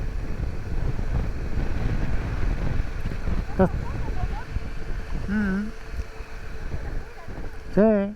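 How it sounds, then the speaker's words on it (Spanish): Steady wind blows across an open highland road near Guamote, Ecuador, on the way toward Chimborazo, roaring continuously against the microphone with a brief spoken word near the end. "Está soplando lindo el viento acá."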